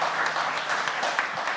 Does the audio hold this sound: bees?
no